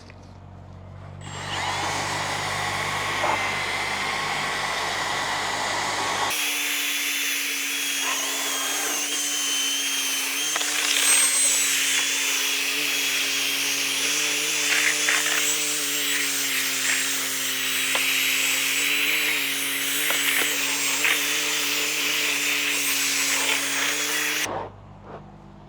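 A power scrubber works over a WeatherTech rubber floor mat coated in cleaner, a loud steady motorized whir with scrubbing rub, running continuously for over twenty seconds at close range, no voices.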